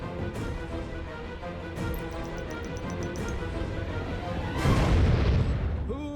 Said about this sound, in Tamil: அந்த விண்கற்கள் அப்படியே வெடிச்சு சிதறிடுச்சு.